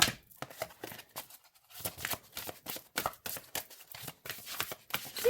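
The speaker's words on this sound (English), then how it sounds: "And overhand, yes. Shuffles well." Oracle cards shuffled overhand, a series of quick papery riffles and soft slaps in irregular bursts with brief pauses, close and fairly quiet.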